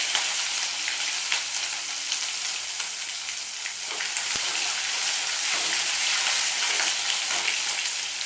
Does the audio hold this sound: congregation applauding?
no